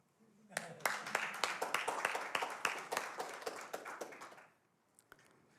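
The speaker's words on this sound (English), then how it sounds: "I want to give you a round of applause." An audience breaks into a round of clapping, a dense burst of hand claps that swells quickly, holds for a few seconds and then thins out to a few stray claps, heard from within a hall.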